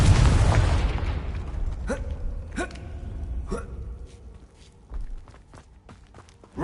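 A Confringo fire spell in Hogwarts Legacy on PS5 bursts with a loud whooshing blast that fades out, followed by a few sharp clicks and light footsteps.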